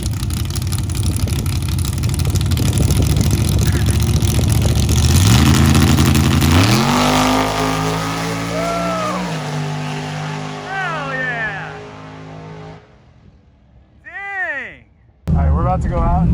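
Nitrous-equipped drag racing car launching down a drag strip, a loud roaring engine climbing through rising revs and gear changes as it pulls away, fading into the distance, with chatter and crowd noise mixed underneath.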